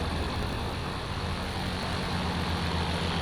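Steady, loud drone of a light airplane's engine and propeller heard from inside the cockpit during a flight, continuous broadband roar with a low rumble and no break.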